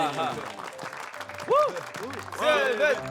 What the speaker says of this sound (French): faites du bruit et applaudissez bien fort le plus beau chien de cet hôpital, Seven.